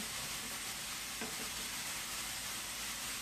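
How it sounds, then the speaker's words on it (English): Ground beef browns in a pan with a soft, continuous sizzle and a few faint scrapes of stirring, heard up close with no talking. "Okay, so my burger is browning up."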